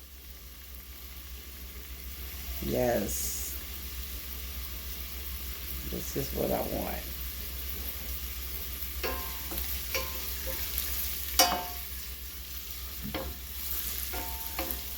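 Steady frying sizzle of a beef patty in a frying pan runs throughout, with occasional clinks and scrapes, while a person talks briefly over it.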